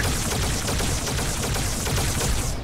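A plasma turret fires without pause in the video game Halo 2 on the Delta Halo mission, a dense, loud, unbroken stream of rapid crackling shots.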